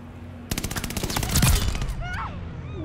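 An MG42 machine gun fires in Call of Duty: Vanguard multiplayer, a loud, rapid burst of about a dozen shots lasting roughly a second, followed by game effects and a voice.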